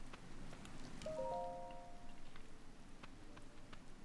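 Rain falls in the video game The Legend of Zelda: Tears of the Kingdom as a faint, steady hiss of drops, with a few soft tonal game chimes over it.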